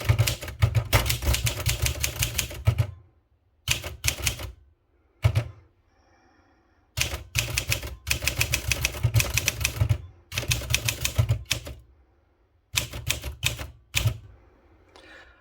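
A Princess 500 manual typewriter types in rapid, loud, close bursts of clacking keystrokes, broken by short pauses and occasional carriage-return thunks.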